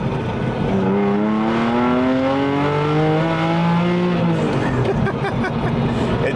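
Porsche 996 flat-six with exhaust valves open, revving hard through rising and falling sweeps, loud and close with a throaty, continuous engine note on the road.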